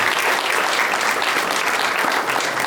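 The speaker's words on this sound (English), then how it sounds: "So let's give them a round of applause" An audience at a community film screening on mental health applauds, a thick, even burst of clapping from a crowd that continues steadily without talk over it.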